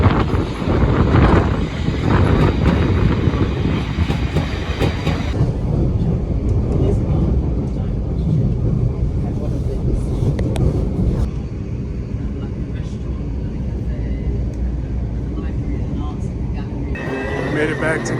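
A train running from London Bridge toward Gatwick Airport rumbles steadily throughout, with constant rolling noise and rattling, and a voice speaks over it.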